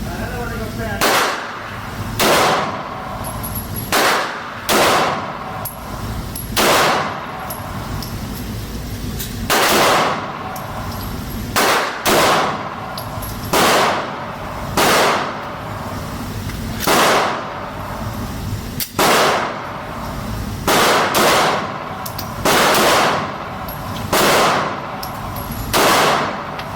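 CZ 75D PCR 9mm pistol firing, a series of sharp, loud gunshots in irregular clusters with a few quick doubles, with voices talking between shots.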